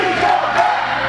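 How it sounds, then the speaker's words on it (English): Wrestling arena crowd chanting in unison after a Sudden Impact tag-team match, a dense, loud roar of many voices rising and falling briefly in a short burst. "Oh, please come back chant started."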